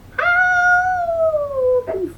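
A single drawn-out, wavering cat howl sweeps slowly downward in pitch, then breaks into a short whine at the end, loud and close.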